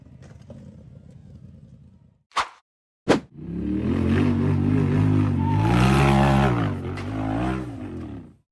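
A throaty off-road buggy engine revs hard and roars steadily as it climbs a steep dirt slope, loud and close, after a couple of sharp thuds and a softer rumble.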